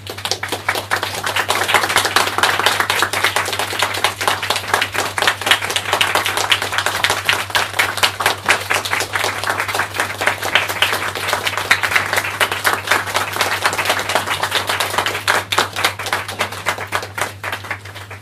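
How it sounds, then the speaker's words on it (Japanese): An audience at a Japanese lecture event claps to welcome the speakers onstage, a sustained crisp sharp clatter of many hands, loud and steady throughout, with a constant low hum underneath. "拍手でお迎えください。"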